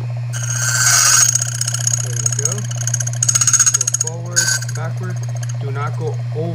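A key cutting machine hums steadily while its cutter buzzes and grinds in short bursts against a key blank, with a person talking over the machine.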